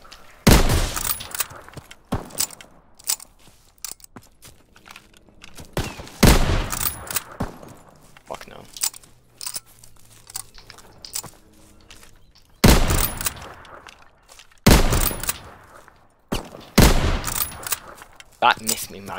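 Bolt-action sniper rifle gunfire in Call of Duty: WWII, loud sharp cracks in spaced clusters alongside other battlefield shots and impacts, with someone talking between them.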